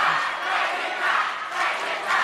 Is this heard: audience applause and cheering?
yes